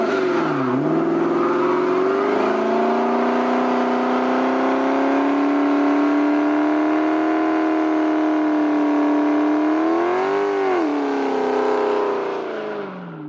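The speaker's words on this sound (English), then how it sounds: "Smoky burnouts." Cammed 2012 Dodge Charger SRT8 with a 6.4 V8, full exhaust and custom tune doing a smoky burnout, a loud, close, sustained engine roar held at high revs with a brief rev dip near the end, no talking.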